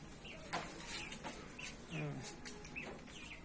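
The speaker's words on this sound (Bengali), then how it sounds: "মুরগি" Chickens cluck repeatedly at a moderate distance, mixed with a few higher chirps from other birds in a quiet outdoor setting.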